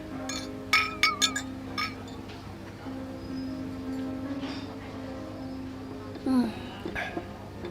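Glasses clink together in a toast during a drama scene, with a few sharp, close chinks in quick succession early on, followed by quieter room sound.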